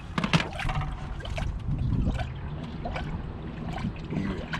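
Air bubbles gurgle and trickle through the coolant system of a Nissan G35 as the radiator is filled. The gurgling is faint and continuous, with a few sharper splashy bursts near the start.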